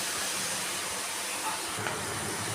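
Onions and turmeric sizzle in a pan during sautéing, a steady close hiss that holds throughout with a small bump near the end.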